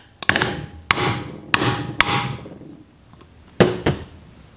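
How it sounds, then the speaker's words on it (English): A mini sledge hammer taps a steel outlet cover to seat a front disc brake part on a classic Ford Mustang, giving several sharp metallic strikes, close and ringing briefly, in an uneven rhythm with short pauses. "And then I'm going to take a mini sledge"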